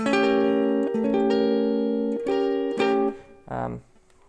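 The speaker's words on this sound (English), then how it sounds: "So we'll play a flat 9 chord." Several sustained guitar chords, flat 9 altered dominant voicings, ring out in sequence, each strummed and held, ending with a short muted strum.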